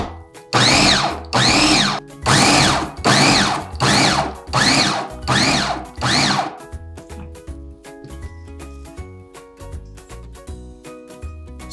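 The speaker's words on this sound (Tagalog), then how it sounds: "Kung may food processor kayo, yun ang gamitin nyo." Food processor shredding cabbage, seven loud whirring bursts in a steady pulse, each roughly half a second with short pauses between, followed by quieter clatter and faint background hum.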